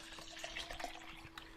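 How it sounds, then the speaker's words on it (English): A car is refuelled in the survival game Unturned, heard as a faint, continuous liquid pouring and gurgling with small splashy drips and no talk. "This is how you refuel cars."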